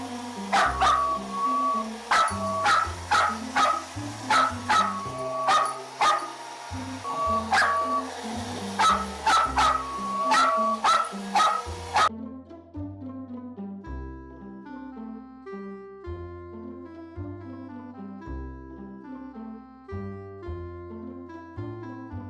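Dancer, a small pet dog, barks repeatedly in a rhythmic string of sharp yaps while playing, over background music that carries on alone once the barking stops.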